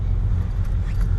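A car being driven: steady low road and engine rumble from inside the cabin, continuous and fairly loud with no voices.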